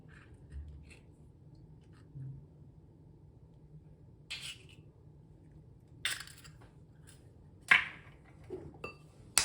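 Eggs being separated into whites and yolks in a kitchen while making syrniki: a quiet room broken by a few sharp clinks of shell against a bowl and light scraping taps, scattered over nine seconds.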